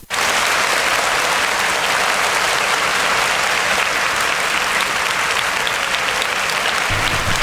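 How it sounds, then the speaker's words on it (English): A studio audience gives loud sustained applause for a departing show guest, a dense uninterrupted roar of clapping that starts abruptly and holds steady to the end. "we just have to give you a quick round of applause"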